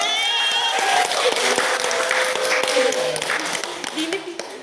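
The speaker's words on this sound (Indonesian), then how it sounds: "Beri tepuk tangan dulu" A classroom of students gives a lively round of clapping, dense and sustained before tapering slightly, with a few voices over it.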